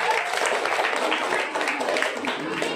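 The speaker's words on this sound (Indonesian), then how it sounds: "Tepuk tangan buat Diva." Schoolchildren and staff at an elementary school assembly clap for a student named Diva, a steady burst of applause with some voices mixed in.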